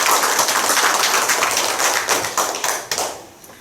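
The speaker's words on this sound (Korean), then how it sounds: "하나님 제 기도 들어주시는 박수 한번 할까요?" A church congregation gathered for Sunday worship claps together, a dense patter of many hands that holds steady and then thins into a few scattered final claps before fading.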